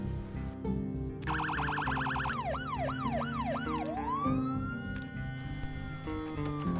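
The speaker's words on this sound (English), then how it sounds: "you can utilize a siren by holding down V, selecting the light bar option, and using whatever siren option sounds the coolest to you" An emergency vehicle siren in Project Zomboid cycles through several patterns, a fast yelp, swooping wails and a rising tone, loud and close over a low background of game sound, no voices.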